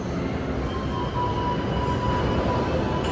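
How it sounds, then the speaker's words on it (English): A New York subway 7 train approaches a station platform with a steady low rumble and faint high wheel squeal, continuous and moderately loud with no voices. "There's always a 7 train approaching the station."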